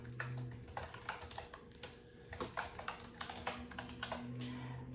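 Keys clatter steadily on an ASOYIOL wireless mechanical keyboard, a quick irregular run of close, clicky taps over a low steady hum in the room, with no talking.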